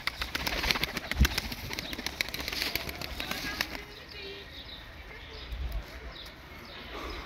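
Birds taking off and flying, with a rapid flurry of wing flaps close by that fades into quieter outdoor ambience, faint voices in the background.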